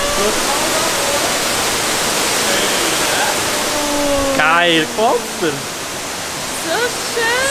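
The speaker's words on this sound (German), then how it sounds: "Jetzt sind wir angekommen bei diesen Höhlen, dem Wasserfall" A waterfall inside a cave near Jardín, Colombia, gives a steady, loud, broadband rushing roar that fills the whole span, while people speak excitedly over it.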